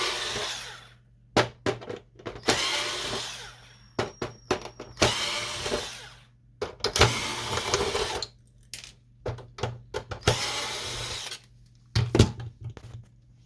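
Screws are driven out of an HP Photosmart 6520 printer with a power screwdriver, giving short whirring bursts separated by pauses and clicks, close and moderately loud, with no talking.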